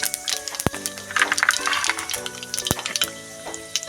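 Panch phoron spices fry in hot oil for a paneer dish, giving bursts of crackling sizzle. Steady tonal music plays underneath, and a couple of sharp knocks come from the pan.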